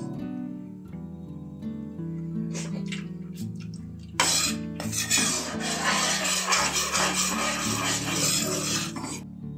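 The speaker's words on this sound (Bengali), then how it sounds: "ভালো করে এটাকে একটু মিশিয়ে নেবো" Chicken tandoori mixture is stirred and scraped in a pan, giving a continuous rasping, rubbing scrape that turns louder and denser partway through, close and steady with a faint tonal hum beneath.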